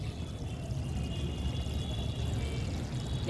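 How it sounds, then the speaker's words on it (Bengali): Water poured steadily onto the soil of a freshly repotted plant, a continuous close, even splashing gush with no break and no talk. "এইভাবে জল দেবে।"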